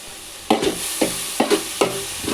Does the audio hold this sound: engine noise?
no